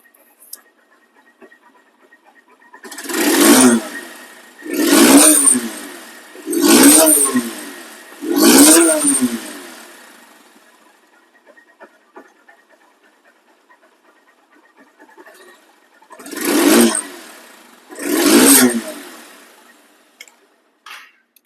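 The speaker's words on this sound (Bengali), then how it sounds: "নতুন আর এই বাইকের সাউন্ডের ক্ষেত্রে কোনো পার্থক্য নেই" A second-hand double-disc motorcycle is revved in six loud, separate throttle bursts, four in quick succession and then two more after a quiet pause, each swelling and fading with only a faint idle between them.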